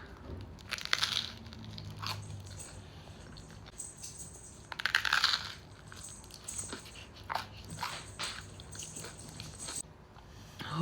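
Crunchy sourdough bread bitten and chewed close up, with sharp crackly crunches at intervals over a quiet background.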